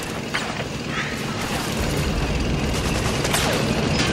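Sustained suppressing gunfire and explosive combat noise from Metal Gear Solid 4: Guns of the Patriots, a dense, loud, continuous barrage with no gaps across the whole stretch.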